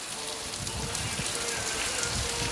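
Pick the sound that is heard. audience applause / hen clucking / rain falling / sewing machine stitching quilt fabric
rain falling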